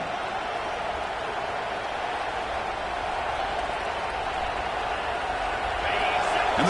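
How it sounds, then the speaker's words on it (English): Stadium crowd in a college football video game roars steadily as a dense, continuous wall of cheering during a red-zone defensive stand, swelling slightly louder toward the end. "And the crowd coming to life here, trying to help this defense down in the red zone."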